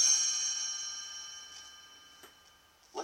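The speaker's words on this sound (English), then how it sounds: "You will know it is time to turn the page when you hear the chimes ring like this." A single bright chime rings out and slowly fades, ringing tones decaying over a few seconds, followed by a couple of soft taps.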